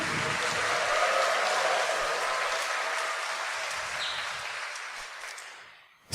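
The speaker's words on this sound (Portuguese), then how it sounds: "Dê uma salva de palmas bem forte, bem bonita, para Ele." A church congregation at Sunday Mass gives a strong round of applause, a broad, sustained wash of many hands that holds steady and then fades out at the end.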